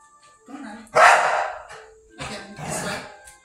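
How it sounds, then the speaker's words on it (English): A dog growls softly, then gives a few short, sharp barks in separate bursts, close and fairly loud, during an AKC Nationals event performance. "With those little barks again, building up her courage to fight the burglar."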